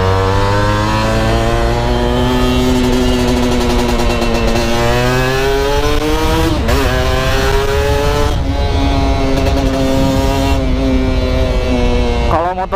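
A Kawasaki Ninja SS motorcycle ridden on the road, its engine loud and close, revving up and down through several gear changes, with wind noise and some faint voices underneath.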